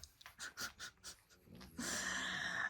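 A dog lying on the floor breathing heavily, a run of rhythmic, close snorting breaths followed by a longer, louder sustained snore-like exhale.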